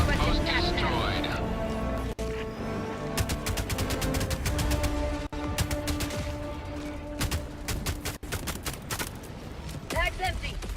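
Video game gunfire in rapid automatic bursts and dense fusillades, loud and close, with scattered single shots and distant explosions, under game voice callouts.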